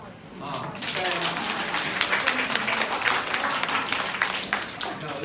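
Theatre audience at a Deyun She crosstalk comedy show applauding, dense rapid clapping that swells after a quiet start and stays loud and sustained, with a little speech underneath.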